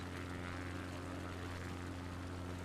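A propeller aircraft flies past over water near jet skis, its steady drone holding loud and even throughout with strong low hum and broadband rush, no voices.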